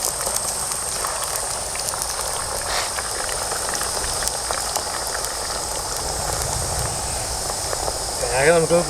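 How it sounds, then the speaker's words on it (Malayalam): French fries deep-fry in a pan of oil outdoors, a dense continuous bubbling hiss that holds steady, with a brief louder burst near the end. "അപ്പോൾ നമുക്ക് ഇങ്ങനെ ഫ്രഞ്ച് ഫ്രൈസ് എല്ലാം നമുക്കൊന്ന് വറുത്തെടുക്കാം."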